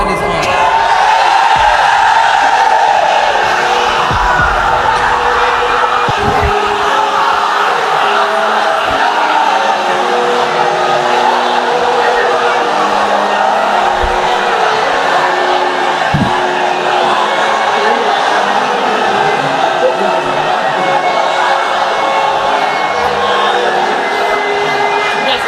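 A large crowd at a religious gathering chants slogans in unison, a loud, sustained roar of many voices that fills the space continuously.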